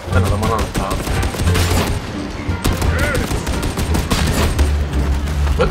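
Dense, rapid gunfire from enemies in Warhammer 40K Darktide, loud continuous bursts and shots overlapping with no pause.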